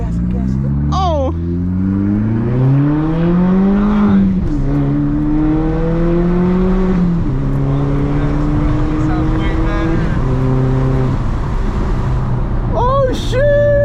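A VW Mk4 GTI 20th Anniversary Edition fitted with a new exhaust revs loudly up close, its engine note climbing and falling through several long pulls, with sharp crackles at the start and end.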